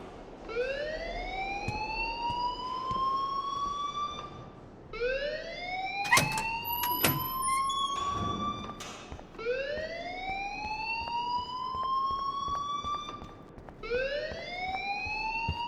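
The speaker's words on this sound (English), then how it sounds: "please turn off that alarm" A whooping alarm from the video game Life is Strange, with loud rising sweeps repeating about four times in steady cycles and a few sharp clicks and clatters in between.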